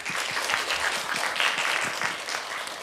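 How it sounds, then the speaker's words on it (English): Audience applause at a radiology AI symposium, welcoming a speaker: dense, steady clapping from a crowd filling the whole stretch at a fairly loud, even level with no one talking. "So please join me in welcoming him with a round of applause."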